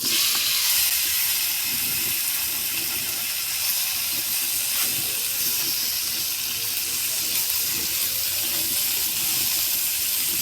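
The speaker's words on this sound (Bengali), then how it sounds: "এবার এইগুলোকে অল্প আমি এপিটোপিট করে ভেজে নেব" Paneer pieces frying in a pan make a steady, close hiss and sizzle that stays at an even level throughout with no talking.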